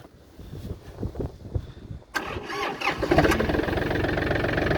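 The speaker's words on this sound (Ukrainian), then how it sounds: "Зараз ми його заведемо. Трактор вчора нам прийшов. Зараз заводимо при вас." A used Yanmar F235 tractor's diesel engine cranks briefly, catches, and settles into a steady, loud idle close by.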